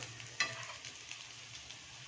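Poha breakfast sizzling in a pan, a soft continuous frying hiss with one sharp clink of a utensil early on and light stirring scrapes.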